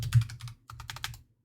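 A computer keyboard clatters with quick bursts of keystrokes, close and fairly quiet, a short run of clicks, a brief gap, then another run.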